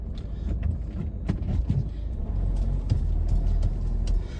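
A road vehicle's engine rumbles low and steady up close as it turns around on a road, rising slightly in level, with small clicks and knocks over the drone.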